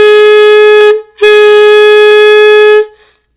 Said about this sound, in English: If I use too much tongue, it sounds something like this.